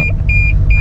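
Parking sensor on a 2023 Toyota Yaris Cross GR Sport hybrid gives a fast series of short, fairly loud electronic beeps at a steady rhythm over a low car-cabin rumble.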